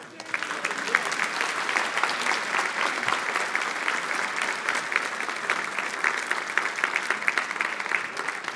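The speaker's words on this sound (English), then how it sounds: "Now you can applaud." Congregation applauding at a church parish meeting, steady sustained clapping from a roomful of people at moderate distance throughout.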